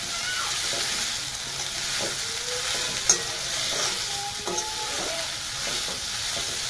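Onion poha being stirred in a hot pan, scraping strokes of a spatula over a steady sizzle, close and clear, with a few sharper knocks of the spoon against the metal.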